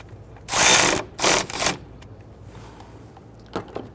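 A ratchet clicks in two quick bursts, then fainter short runs, as bolts on a plastic coolant reservoir in a 3.6L V6 Dodge Charger are snugged down close by, with no talk.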